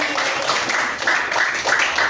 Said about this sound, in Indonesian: Oke, tepuk tangan dong, Bu Jen.